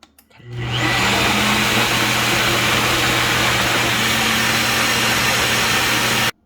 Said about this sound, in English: just put it in this little blender, and then you're gonna blend it